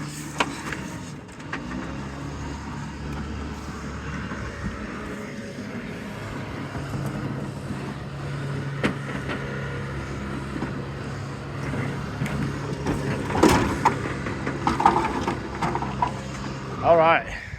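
A barn-find Porsche 356 engine idles and runs low and steady, moderately near, with a faint whine and voices talking over it toward the end.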